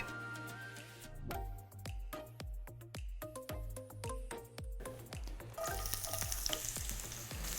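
Thinly sliced onions frying in a little oil to brown, a quiet background sizzle broken by a regular run of soft thumping stirring strokes, then a brighter, denser hiss toward the end.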